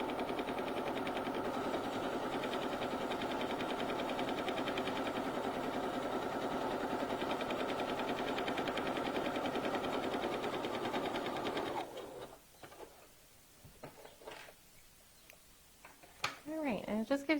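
A domestic sewing machine runs a zigzag edge stitch around a fabric top, a steady close whirring hum for about twelve seconds before stopping, followed by quieter handling clicks and rustles.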